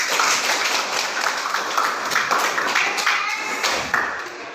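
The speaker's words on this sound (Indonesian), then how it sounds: "Mari tepuk tangan untuk kesepakatan kita bersama." A class of students claps together in a classroom, a continuous patter of many hands at a steady level that tapers slightly near the end, with some voices underneath.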